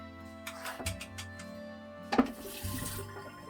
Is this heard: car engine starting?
no